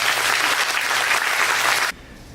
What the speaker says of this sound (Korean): 우리 한번 감사의 박수 한번 드리도록 하겠습니다